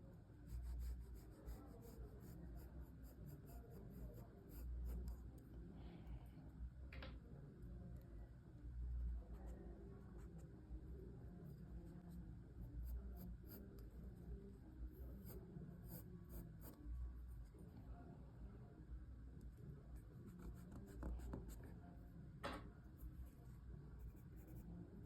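Pencil scratches and rubs across paper in a drawing session, a faint, close, irregular scraping that carries on steadily with a few soft taps.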